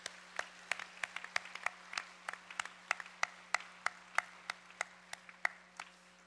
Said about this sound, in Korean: 우리 저들 한번 격려하고 박수하겠습니다